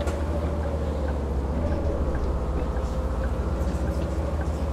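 A bus engine in the video game Bus Simulator 16 hums steadily with a deep, even drone as it accelerates, the low rumble continuous and moderately loud throughout.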